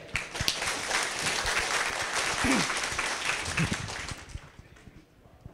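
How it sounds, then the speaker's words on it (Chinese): An audience claps warmly to welcome teacher Chang Ying-wen at a training session. The applause is dense and steady, then thins out and fades toward the end. "我们用热烈掌声邀请"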